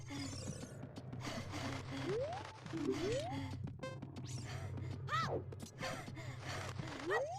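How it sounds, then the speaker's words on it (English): Link's breathing and gasping noises from Ocarina of Time, played in place of chicken sounds in a randomized game, repeated gasps and sighs in quick succession with rising whoops over a low steady game hum. "All of the chicken sounds have been randomized to Link breathing."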